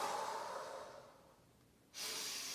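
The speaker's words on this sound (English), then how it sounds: "Imagine filling your stomach with air in through the nose, out through the mouth" Slow, deep diaphragmatic breathing during an upper-abdomen lymphatic massage routine: a soft, drawn-out breath fading over two seconds, then a sudden airy inhale or exhale, close and alone with no talk.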